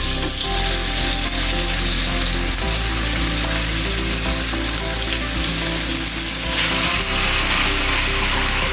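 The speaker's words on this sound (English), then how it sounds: "I'm adding 1/4 cup of coconut oil to my skillet. I'm gonna add my meat into my pot." Meat frying in a quarter cup of coconut oil in a skillet, a loud, constant close-up sizzle and crackle with faint stirring underneath, no voices.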